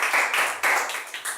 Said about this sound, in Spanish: Si va a aplaudir, apláudale a él fuerte, hágalo con todo ánimo.